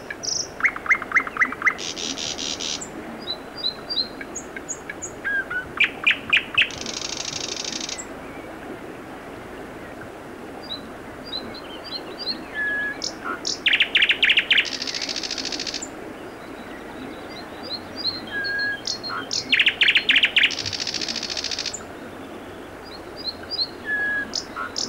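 Common nightingale singing outdoors along a Swedish coastal trail, bursts of sharp repeated chirps and rapid trills at moderate distance, separated by pauses over faint background hiss.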